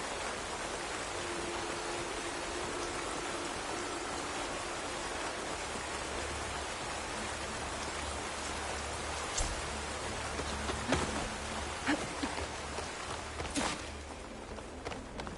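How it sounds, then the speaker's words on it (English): Rain falls steadily in the Horizon Forbidden West game, a continuous, even patter with a few sharper drops and thuds toward the end. "Rain's finally stopping."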